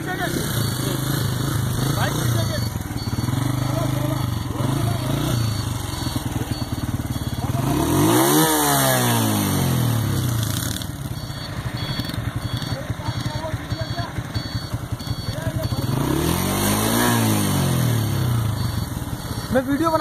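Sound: Hero motorcycle riding on a road

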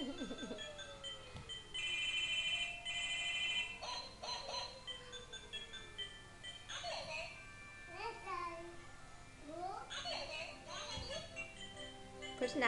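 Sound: toy phone ringing

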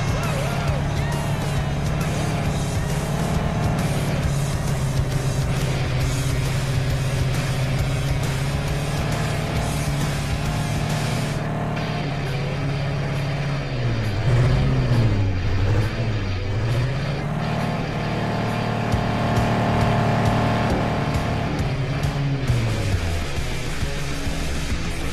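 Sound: 4x4 jeep driving offroad in an Android video game

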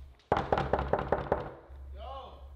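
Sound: knocking on a door

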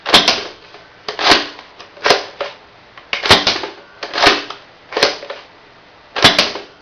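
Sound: Nerf Firefly REV-8 dart blaster firing

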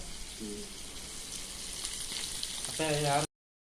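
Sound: mackerel fish frying in a pan

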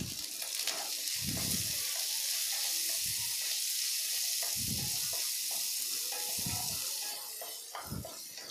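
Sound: sautéing in a pan after adding salt, chicken curry

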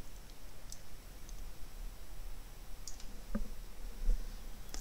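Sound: computer mouse clicking

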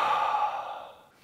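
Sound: deep belly breathing in and out, ice bathing breathwork

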